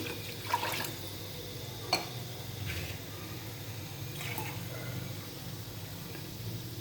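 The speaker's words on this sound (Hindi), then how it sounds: "मैं इसमें पानी ऐड करती हूँ।" Water pours quietly into a cooking pot for white chickpea pulao, a soft, continuous trickle with a couple of faint clinks, heard close with no talking.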